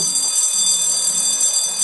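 An alarm rings steadily in the horror game The School White Day, a continuous bright electronic tone held at an even level throughout with no speech over it.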